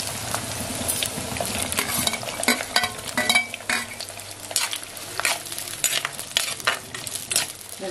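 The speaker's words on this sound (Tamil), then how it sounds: "இந்த வெங்காயம் நல்லா எண்ணெயில நல்லா வதங்கணும்." Onions fry in oil for fish kulambu with a busy crackling sizzle, cut through by repeated scraping and clanking stirs of a spoon against the pan, close up and with no talking.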